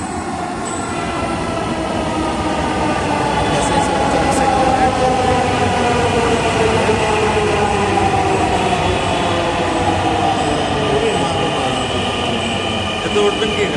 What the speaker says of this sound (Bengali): আমাদের কাঙ্ক্ষিত রেল আসতেছে অপেক্ষা করুন